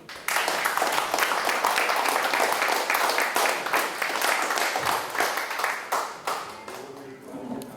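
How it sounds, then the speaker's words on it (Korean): Big applause from a Korean lecture audience at an intellectuals' club talk about Japan: crisp, dense clapping from many hands, steady and loud, tapering at the end as a voice begins. "그래서 아주 큰 박수로 좀"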